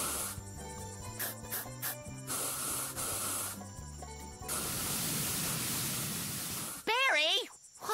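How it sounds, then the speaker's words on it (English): A cartoon character sprays a homemade weed-killer solution on garden weeds, heard as a steady, fairly loud hissing spray lasting a few seconds after bouncy music, followed by a brief burst of warbling cartoon sound effects. "watch where you're spraying"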